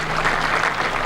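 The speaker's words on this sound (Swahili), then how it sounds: "Tuwapigie makofi hawa wadosi." Applause from a crowd at a Labour Day gathering honouring labour leaders, steady and fairly loud clapping throughout with no break.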